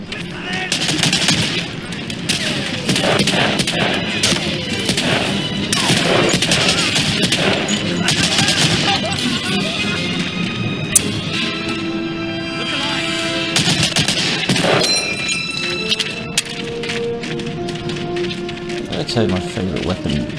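Rifle fire from the M1 Garand in the first-person shooter Medal of Honor Allied Assault, with repeated sharp shots and bursts of gunfire running throughout, mixed with game effects and a voice talking over it.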